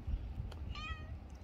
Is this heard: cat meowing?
yes